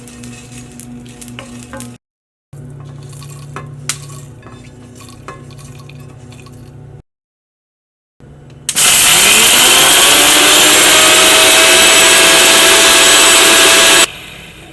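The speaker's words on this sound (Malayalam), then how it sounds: "ഈ മിക്സി ഉണ്ടല്ലോ, ഞാൻ നാട്ടിൽ നിന്ന് കൊണ്ടുവന്ന മിക്സിയാണ്." A countertop mixer grinder, brought from Kerala, grinds toasted spices. Kitchen sizzle and clatter come first, then the motor bursts into a loud, roaring whir for several seconds and cuts off abruptly.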